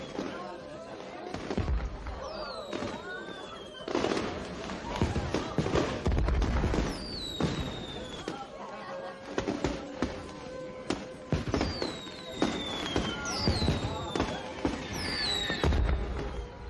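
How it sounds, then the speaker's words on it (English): Fireworks go off outdoors in a legal drama scene, with a dense run of crackles and pops, whistling streaks and occasional deeper booms, with voices talking over the display. "let's go on and see the fireworks"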